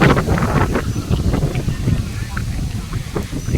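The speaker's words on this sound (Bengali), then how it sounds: "বাতাসের শব্দ শোনা যাচ্ছে।" Strong wind blowing beside the Gomti river, buffeting the microphone with continuous low rumbling gusts and rough flutter from start to finish.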